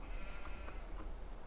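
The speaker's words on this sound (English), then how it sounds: "Oh, sheep actually do go in there then." Sheep in the Farming Simulator 2015 video game bleat a few times, short faint calls over a soft low background rumble with no talking.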